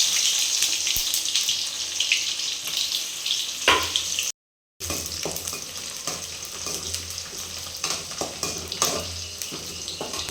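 Onion frying in hot oil with spluttered mustard seeds, urad dal and cumin, a close, steady crackling sizzle with stirring scrapes and a brief silent gap partway through.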